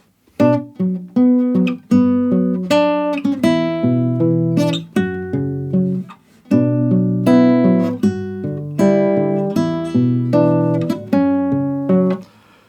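Nylon-string guitar picked fingerstyle, a flowing melody over plucked bass notes and chords, played steadily and up close without any voice.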